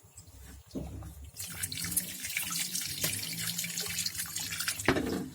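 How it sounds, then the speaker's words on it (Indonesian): Tubifex worms rinsed with clean running tap water, a steady gushing and splashing stream into a container that starts after a second, builds and stays loud and close, with no voices. "kita bilas dengan air bersih."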